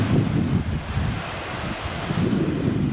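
Steady rush of sea surf washing onto a beach in Holland, with wind buffeting the microphone throughout; no voices, just continuous rolling water noise.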